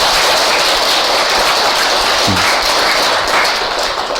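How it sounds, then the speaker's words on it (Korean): An audience claps together at a Buddhist dharma talk, a loud, dense, continuous wash of applause lasting the whole stretch with no voices over it. "박수 한번 치소"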